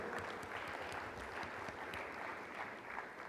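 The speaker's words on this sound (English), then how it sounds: "Let's give them a round of applause." Dense, steady audience applause fills a hall at an agricultural summit, lasting throughout without a break.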